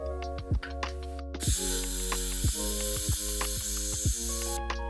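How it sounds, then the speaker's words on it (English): Pressure is let out slowly from a bottle of pepper-infused rum, giving a long, steady hiss that begins abruptly and runs almost to the end, with tonal music underneath. "we're just going to let out the pressure very slowly"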